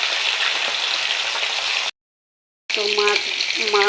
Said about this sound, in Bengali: গরম তেলে তেলাপিয়া মাছ ভাজতে দিয়ে দিয়েছি